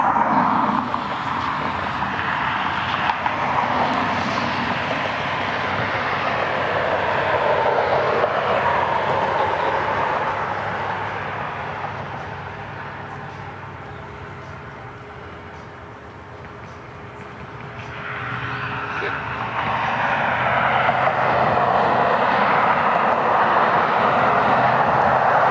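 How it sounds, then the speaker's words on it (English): A Boeing 737-900 jet airliner passes at Cleveland Hopkins airport with a broad engine roar that swells, dips partway through and then surges again as the aircraft goes by. "That's a 737-900 out of Atlanta."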